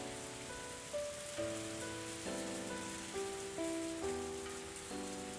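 Steady heavy rain in the Higurashi When They Cry visual novel, a constant wash of downpour lying under soft, slow music notes, with no voices.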